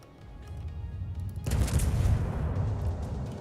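Warship turrets fire in World of Warships: after a low rumbling lead-in, a heavy booming salvo hits midway and leaves a loud, lingering roar that slowly fades.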